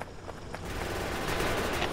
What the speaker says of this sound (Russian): О, стреляют пушки.